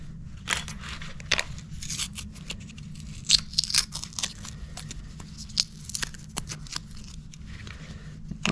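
Tape is cut and torn by hand while masking a carburetor for a burnt bronze Cerakote finish at home, giving scattered crisp snips, crackles and ripping bursts close to the microphone, with no talk.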